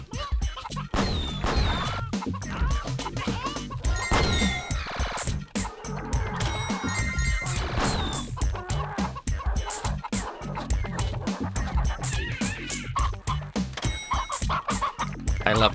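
Dense chicken clucks and squawks from the video game Mort the Chicken pile up loudly with sharp popping, gunfire-like bursts, a continuous busy clamor with no pause.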